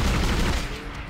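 Rapid gunfire in the Dead Space video game, a quick heavy burst of shots that is loudest at first and then thins and tails off toward the end, close and alone without voices.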